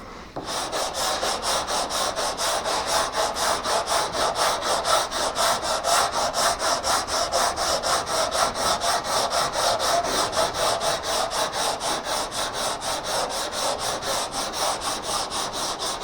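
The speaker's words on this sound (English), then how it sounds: "So we are sanding this" A curved surface is sanded by hand in quick, even back-and-forth strokes, a continuous rhythmic scratchy rasping heard close up and alone.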